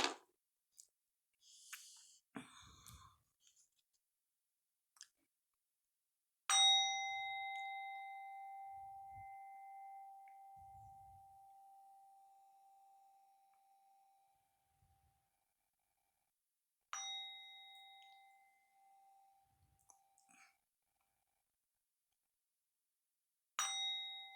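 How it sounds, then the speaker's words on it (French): A Tibetan singing bowl is struck three times, each strike ringing out clear and bright before slowly fading, with the first ring lasting longest and the gaps otherwise quiet. "on va faire 3 petits coups de bol tibétain"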